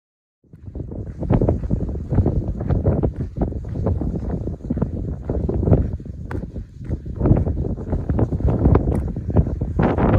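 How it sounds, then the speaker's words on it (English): Strong gusty wind buffets the microphone on an open desert road walk in Big Bend Ranch State Park, Texas, loud and continuous with rough bursts throughout. "Windy, but not too cold."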